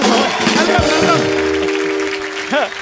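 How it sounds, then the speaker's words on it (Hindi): A studio audience claps for Govinda as he enters a Bollywood comedy talk show, the applause running as a hiss beneath a host's loud speech and cheers. "एक बार गोविंदा सर के लिए जोरदार तालियां।"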